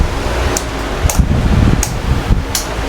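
An electric fan runs with a steady broadband whoosh and a low hum, close by, with faint periodic ticks riding over the constant airflow and no talking.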